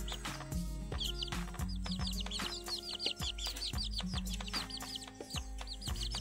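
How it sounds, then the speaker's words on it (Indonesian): Indonesian village chickens being fed water spinach cluck busily and repeatedly at close range, with soft pecking clicks and scattered higher calls between them. "Ini ayam kampung."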